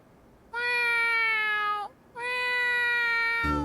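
A voice imitates a cat, giving two drawn-out, tonal meows separated by a short pause, clear and close against quiet background.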